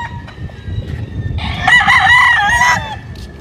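A rooster crows once, loud and close, a drawn-out cock-a-doodle-doo rising over quiet background noise.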